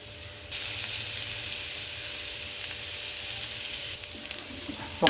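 Potato pieces with ginger and green chilli sizzle steadily in hot oil, a continuous close frying hiss with faint scraping as the pieces are turned, a small clatter at the very end.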